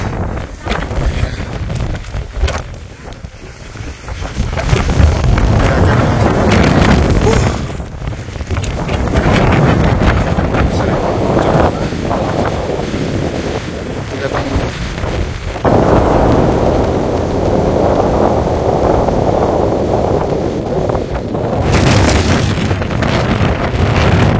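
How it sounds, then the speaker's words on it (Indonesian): Fierce gusts blast across Bondolan peak at 1885 m on the summit of Mount Ungaran, a loud, roaring rumble buffeting the microphone with surges and brief lulls over some twenty seconds. "Ini anginnya gede banget. Anginnya gede banget."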